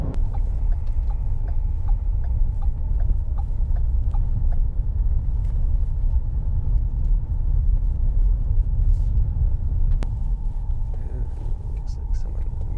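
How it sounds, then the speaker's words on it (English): A family car rolls along a wooded road with a steady low engine rumble and road noise throughout, unbroken and fairly loud, with faint occasional rattles over the drone. "So I'm stuck driving the family vehicle instead of my truck."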